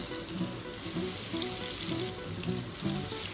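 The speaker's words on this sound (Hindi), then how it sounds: "अब हमारा मैरिनेट किया हुआ चिकन जो है इसमें डालेंगे।" Marinated chicken frying in hot oil on a low gas flame, a dense and steady sizzle and crackle close by that holds throughout with no break, and no voices.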